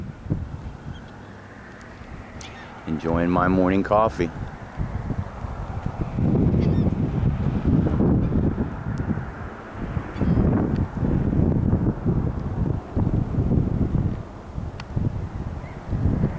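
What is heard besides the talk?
birds honking near the Key West airport at sunrise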